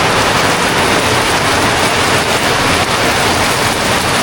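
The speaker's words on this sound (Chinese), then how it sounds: "听到这个雨声了没有？" Heavy typhoon rain pours down in a steady, loud, unbroken roar of dense drops, continuous throughout with no voices.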